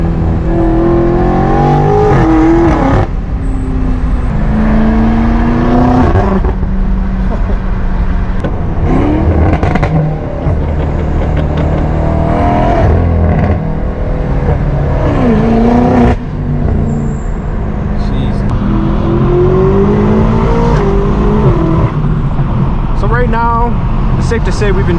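A powerful BMW M8 Competition engine, tuned to 1000 horsepower, revs again and again, its loud exhaust note climbing and falling in repeated bursts.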